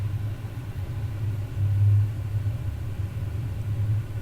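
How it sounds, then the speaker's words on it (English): A car passes outside during a quiet meditation session, a low, muffled engine rumble that swells briefly midway before settling back into a steady distant hum. "You hear the car outside, right?"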